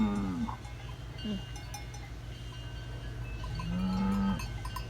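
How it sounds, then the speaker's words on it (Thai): Goats bleating back and forth to each other at a farm, several drawn-out calls standing out against a steady low background hum, with no one talking. "แพะก็ร้องหากัน"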